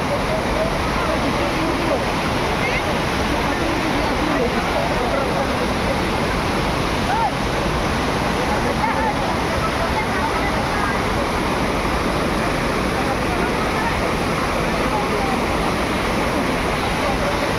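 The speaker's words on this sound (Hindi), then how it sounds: "पूरा जोरसोर चलती पानी" Water surges hard through a canal near Baripada, making a loud, steady, unbroken roar that fills the whole stretch, close and constant.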